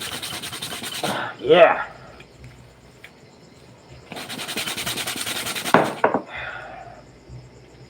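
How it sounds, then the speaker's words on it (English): Hand sanding of wood in a workshop during a live art fabrication project, heard as two bursts of rough, scratchy rubbing strokes separated by a quieter pause, close by with a brief spoken word. "So we're going to sand here."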